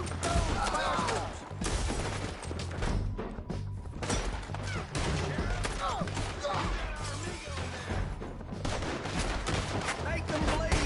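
Rapid gunfire in the video game Red Dead Redemption 2 during a mission shootout, dense overlapping shots and bursts throughout, loud and continuous under a backdrop of game music.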